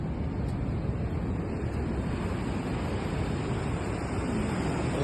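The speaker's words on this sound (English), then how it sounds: "The ocean. Ah, look at those waves." Ocean waves at Keurboomstrand beach near Plettenberg Bay roar as a continuous loud surf wash, blended with strong wind buffeting the microphone and no speech.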